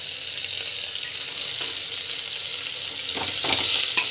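Chillies, asafoetida and salt sautéing in hot oil for cabbage poriyal, a dense, even sizzle close up with a few soft stirring scrapes near the end.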